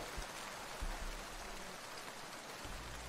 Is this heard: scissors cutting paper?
no